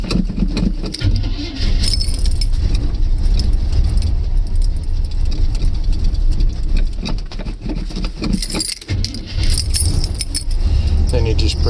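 Chevrolet C10 truck engine cranking and catching on a cold start with a low battery and the gas pumped, loud and close, the engine rumbling and surging unevenly with rattling metallic noise and a brief dip near the end.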